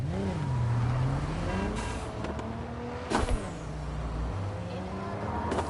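A car drives close behind on the road, its steady engine hum and tyre rumble running continuously with a brief louder swell midway; no one speaks.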